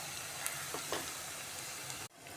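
A tadka of black pepper, cumin and spices sizzling in hot oil for a mung dal, a loud close crackling hiss with a few pops, cutting off abruptly near the end.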